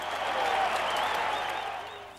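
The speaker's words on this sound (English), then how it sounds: "they're all still clapping, they're all still applauding" An audience keeps clapping after a politician's speech, dense sustained applause from a large crowd with faint voices mixed in, holding steady before easing slightly at the end.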